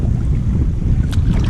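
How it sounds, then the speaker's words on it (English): Strong wind buffeting a kayaker steering toward shore, a loud continuous rumble and rush across the microphone with a brief splash of water near the end. "Got the wind blowing hard enough I don't have to paddle to get back to shore."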